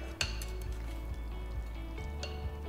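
Noodles being stir-fried with fresh basil in a hot pan, a steady sizzle under a few clinks and scrapes of a utensil against the pan, close and clear with no talking.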